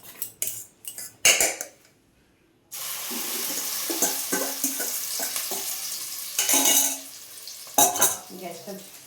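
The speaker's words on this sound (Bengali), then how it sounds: "আমি এই ডিমটা ঢেলে দেবো" Egg is poured into hot oil for a brinjal omelette. A few sharp clinks of utensils come first, then a brief hush, then a steady sizzle that runs on with more scraping and tapping.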